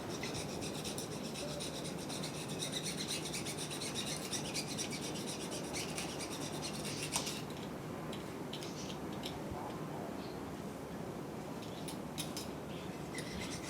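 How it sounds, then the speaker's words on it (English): A blade scrapes silicone off a metal part of an Isuzu KB220, producing quiet, continuous rasping strokes up close with faint intermittent scratchy clicks. "I'm just trying to get all this silicone cleaned off they got on here."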